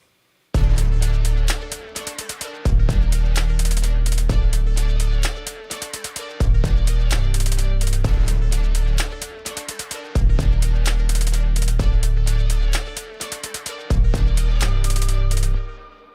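A sampled string section plays in music software, with repeating rhythmic phrases and heavy low chords arriving in pulses about every two seconds, loud and full with no talking.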